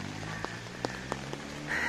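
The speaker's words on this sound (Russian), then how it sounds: "И дождь, слышно, как он идет, да?" Light rain falls in Magadan in August, a steady soft hiss with a few scattered drips and taps close by.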